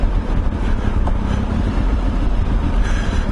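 Petrol Triumph Tiger 955i motorcycle engine running steadily at idle, a loud continuous low rumble close by with no talking over it.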